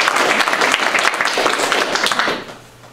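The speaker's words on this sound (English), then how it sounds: "Another round of applause for Erin, maybe." An audience applauds at a talk for an Irish charity, dense steady clapping close and loud throughout, thinning and fading in the last half second.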